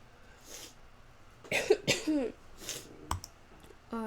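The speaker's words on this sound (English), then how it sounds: "Excuse my coughing." A sick person gives a few sharp, raspy coughs close to the microphone, separated by short pauses, with a faint click near the end.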